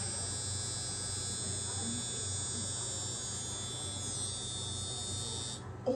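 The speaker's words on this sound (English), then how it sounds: "We're gonna shave his whole head." Electric clippers shave a pet's whole head, buzzing as a steady close hum that runs throughout with faint background sounds.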